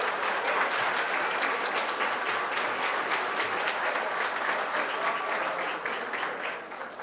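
Sustained applause from an audience at a public-security agents' honors ceremony in Brazil, a dense even wash of clapping that fades slightly near the end.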